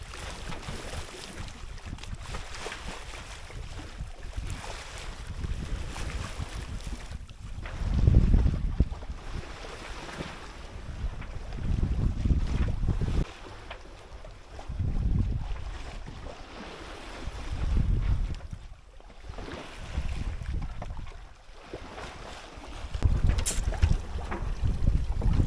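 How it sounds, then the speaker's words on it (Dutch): Steady wind rushes over a sailboat at sea making about five knots, with low gusty surges swelling and fading every few seconds and the wash of waves beneath, no voices. "een prachtige zee met hele mooie wind."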